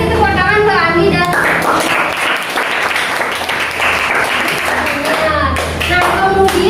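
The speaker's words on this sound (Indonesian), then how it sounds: "kasih tepuk tangan ke Andi dan" Classroom applause for a student in an Indonesian science lesson, a loud burst of many children clapping that carries on for several seconds, with a teacher's voice and children's voices over it near the start and end.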